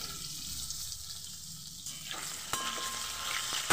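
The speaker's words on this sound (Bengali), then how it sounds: "আলুগুলোকে একটু আগে ভেজে নেব।" Potato pieces frying in hot oil in a pan, a continuous close sizzle with stirring movement, growing slightly louder toward the end.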